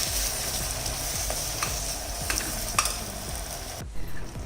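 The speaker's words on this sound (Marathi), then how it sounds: "आता ही तेलामध्ये ही ग्रेव्ही चांगली परतून घ्यायची आपल्याला" Ground masala gravy paste sautéing in hot oil with cumin and curry leaves for Kolhapuri misal, a steady close sizzle with scraping spoon strokes against the pan and a brief pause near the end.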